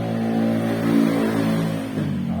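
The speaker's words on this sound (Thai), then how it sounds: "ต้องขออภัยเสียงมอไซค์นะครับ" A motorcycle engine drones steadily nearby, its pitch rising and falling slightly as it passes, loud and continuous throughout.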